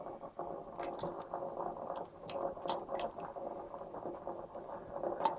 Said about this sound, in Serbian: Sada ćemo dodati tečnog paradajza.